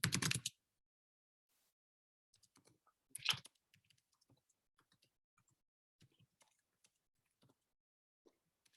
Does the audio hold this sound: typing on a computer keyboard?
yes